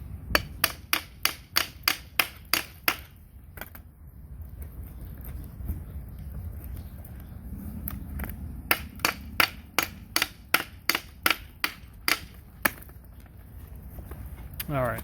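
Someone works a clutch cover loose on a high-mileage motorcycle engine, making fast runs of sharp metallic knocks and taps in two bursts, with a quieter scraping stretch between them.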